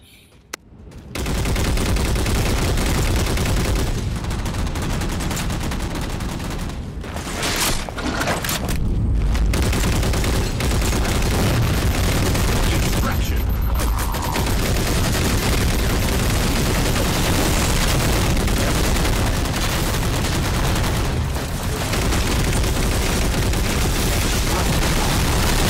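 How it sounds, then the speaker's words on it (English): Halo 4 turret fire pours out nonstop for about twenty-five seconds, a loud, dense stream of rapid shots and booms mixed with game battle noise, with only brief dips near the start. "So here's my 20th kill with the turret I get right here"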